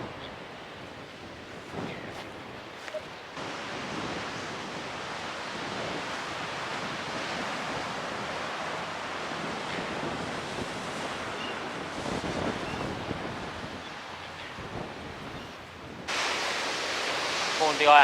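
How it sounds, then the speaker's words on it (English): Ocean waves crash along the rocky coast near Bondi Lighthouse on the Bondi to Watson's Bay walk, a steady, loud roar of surf mixed with wind buffeting the microphone and a brief hiss surge near the end. "water is so noisy when it crashes against the coast or against rocks"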